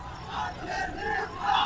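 A crowd at a political speech chanting slogans, a faint rolling mass of voices rising and falling over a couple of seconds.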